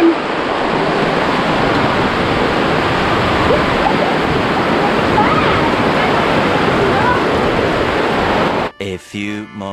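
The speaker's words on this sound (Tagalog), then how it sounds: "Malakas ang hangin." Loud, constant roar of strong wind buffeting, broadband and unbroken, ending with a few brief clicks and bumps.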